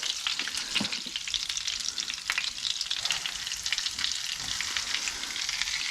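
Tailor fish fillets dusted in flour frying in hot oil, a dense, steady crackling sizzle with sharp popping spatters throughout, close and fairly loud, no voices.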